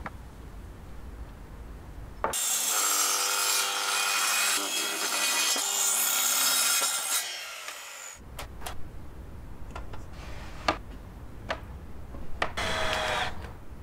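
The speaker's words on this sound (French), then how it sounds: "Mesure la longueur et découpe les planches." Wooden fence boards being cut to length with a saw for a privacy screen fence, a loud steady cutting run lasting several seconds, then a string of sharp clicks and knocks as the boards are handled.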